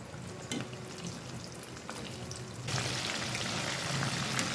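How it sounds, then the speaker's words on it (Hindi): Chicken chunks frying in hot oil for Turkish fried chicken, with a moderate sizzle and a few stirring clicks that swells louder partway through as the frying intensifies, heard alone. "अब यहाँ पे ऐड करेंगे चिकन डालना। लाइट गोल्डन रखते हुए हमने चिकन को कुक करना है।"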